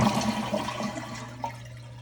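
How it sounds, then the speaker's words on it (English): A toilet emptying as it flushes with the flapper held open and the tank's water supply shut off, a steady rushing drain of water that stays close and fairly loud, with a low hum underneath and no talking. "you're just going to go ahead and initiate a flush"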